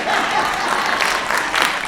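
A crowd of people clapping together at a gridiron football 7-on-7 event, a brief loud burst of many hands with some voices mixed in.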